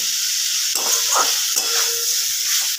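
Soybean chunks sautéing in oil-released spice paste for a soybean curry give a steady sizzling hiss, with a few brief louder stirring bursts and no talk.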